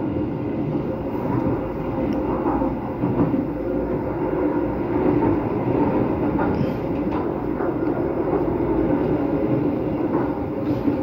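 Train travelling on the Bekasi–Cakung–Jatinegara rail line, a loud continuous rumble of wheels on track heard from on board, steady throughout with faint intermittent clatter and no talk.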